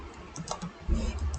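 Someone types a short burst on a computer keyboard, quick light key clicks followed by a slightly heavier patch of keystrokes with low rumbling handling noise, near and moderately quiet.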